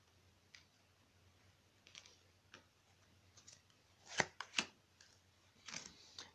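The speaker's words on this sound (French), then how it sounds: "Bon, je vais couper mon jeu." Soft shuffling and riffling of a deck of tarot cards being cut, quiet scattered clicks building to a few sharper snaps toward the end, close and without talk.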